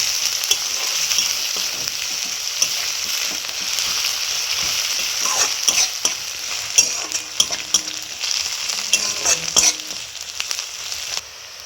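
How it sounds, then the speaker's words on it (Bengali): Onions frying in a pan for a Bengali fish curry with taro and eggplant, a steady sizzle broken by scraping stirs that grow more frequent toward the end, close and alone. "পেঁয়াজটা ভালো করে ভেজে নিতে হবে।"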